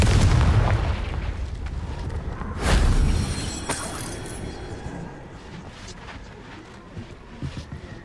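A fiery spell blast from Hogwarts Legacy lands as a loud, close boom with a deep rumbling onset, then a second burst of blast about three seconds in. Crackling debris and a rumble trail off behind it.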